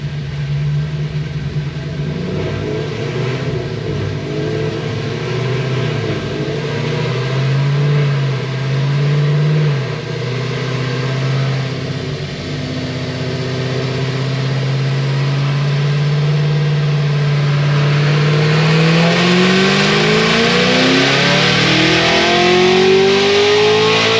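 A Cadillac CTS-V fitted with a Magnuson 2650 supercharger, making about 1100 horsepower, roars loudly on a dyno, its engine droning steadily, dipping briefly, then climbing in a long rising rev toward the end, close and without talk.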